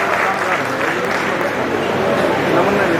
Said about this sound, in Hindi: आप भी एक बार इनका तालियां बजा करके जोरदार स्वागत